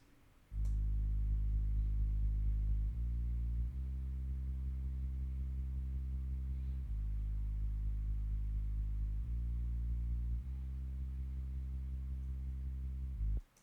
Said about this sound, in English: right now you have at the beginning also this new bass, which sounds like this